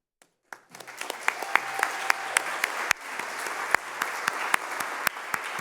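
An audience applauds educators at a special education awards ceremony, steady clapping from many hands rising after a brief silence and continuing with sharper individual claps poking through.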